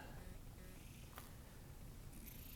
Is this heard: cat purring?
yes